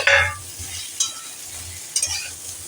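Bitter gourd frying in a pan, a soft steady sizzle with a few scraping stirs of a spatula, fairly close and moderately loud, no voices.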